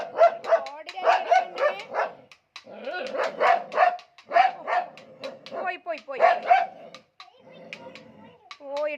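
A dog barks outside in a run of repeated yips and barks, moderately near, while a person talks and shouts over it throughout.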